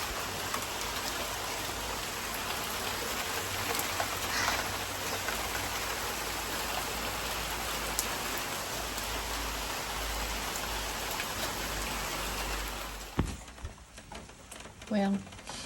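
Steady rain falling outdoors, a dense even hiss of drops that continues for about thirteen seconds before cutting off abruptly, leaving quieter room sounds and a few faint noises.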